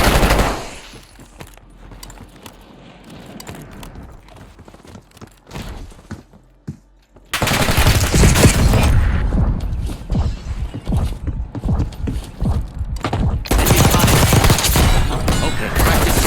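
Automatic gunfire and rapid fusillades erupt in a Call of Duty Black Ops 6 Warzone match, quieter scattered shots at first, then loud, dense bursts of repeated fire dominating the second half.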